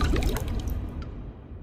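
Cartoon water splash from a Ben 10 animation, a wet splashy burst up front that trails off into dribbling, trickling liquid over about a second and a half, fairly loud and heard alone.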